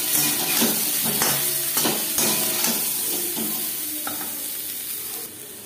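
Potato pieces fry in a pan with turmeric and salt over a gas flame, sending up a steady, loud sizzle with several scraping stirs of a utensil against the pan that fade slightly toward the end.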